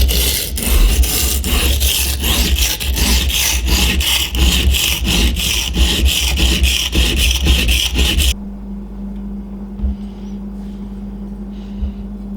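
Santoku blade drawn over a sharpening stone on an Edge Pro Apex guided sharpener, a loud, steady rhythmic back-and-forth rasping of about twenty quick strokes, then it stops, leaving a quiet low hum with a few faint taps.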